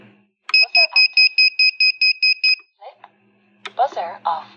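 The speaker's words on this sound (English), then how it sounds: "Buzzer active." A buzzer fitted to a BetaFPV Pavo Femto drone gives a fast run of about eleven sharp, even beeps, close and loud, followed by someone speaking.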